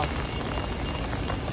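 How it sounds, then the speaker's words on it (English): Rain falling at Animal Kingdom in Disney World: a steady, even hiss of rain on surfaces, moderately quiet and continuous with no talking. "A very rainy Animal Kingdom day."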